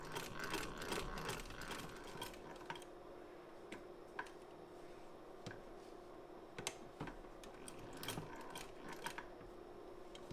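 A Wheeler & Wilson No 9 treadle sewing machine stitching a long stitch, giving a steady faint mechanical ticking and clicking with irregular sharper clacks throughout, no talk.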